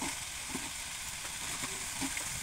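Chicken and potatoes sautéing in a pot over a clay stove, a steady close hiss of frying with faint scraping stirs throughout.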